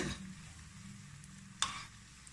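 Banana flower vada frying in hot oil, a soft steady sizzle with one brief sharper crackle partway through, close and moderately quiet, no voices.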